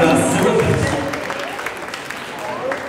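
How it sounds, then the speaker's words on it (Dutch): A quiz show audience applauds a contestant, moderate clapping that fades slightly, with a voice speaking over it. "Ook een applaus voor dat kandidaat"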